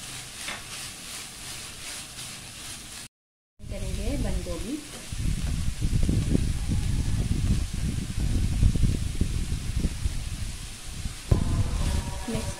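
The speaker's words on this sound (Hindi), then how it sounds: "और अब इसमें शामिल कर देंगे लहसुन। ऑयल का इस्तेमाल ज़्यादा नहीं करना है" Garlic frying in about two spoonfuls of oil, a steady close sizzle with crackles that comes in after a brief gap and continues to the end.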